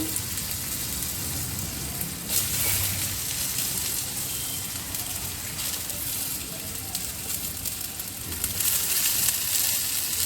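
Potatoes frying in hot oil for a light summer vegetable dish, giving a dense, rain-like hiss that stays loud and steady, swelling slightly near the end.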